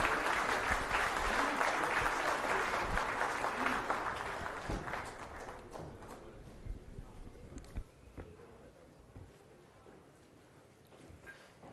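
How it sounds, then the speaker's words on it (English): An audience at a government presentation applauds to welcome CM Revanth Reddy, a broad sustained clapping that starts loud, then thins and fades over several seconds into scattered claps. "Big round of applause please."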